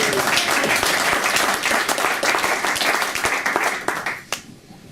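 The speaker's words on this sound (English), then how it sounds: "Let's give him a big applause." Loud, dense audience applause at a talk on building enterprise-ready PowerShell modules: a crowd claps steadily for about four seconds before the sound thins out and stops.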